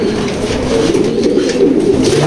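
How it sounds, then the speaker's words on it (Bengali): A released female pigeon gives soft low cooing with faint fluttering, close and steady for a couple of seconds, with no speech. "খুবই সুন্দর ব্যালেন্সের একটা কবুতর মাদি"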